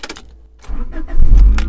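A Honda Accord with a strange fault cranks briefly and catches, a short starter whir preceded by a click, then the engine bursts into a loud low rumble close by.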